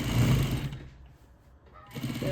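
A sewing machine stitches a minky fabric baby blanket, its loud close motor whirring and rattling, then easing off briefly before starting up again.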